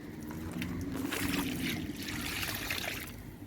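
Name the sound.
water being poured onto a lemon plant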